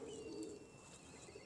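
A pigeon coos softly and low, a single faint rolling call in quiet surroundings with no talking.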